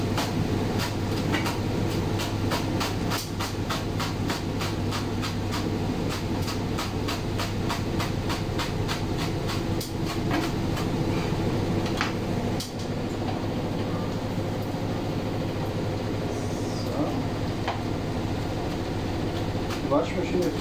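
A washing machine runs steadily with a low mechanical rumble and a rhythmic clattering that continues throughout.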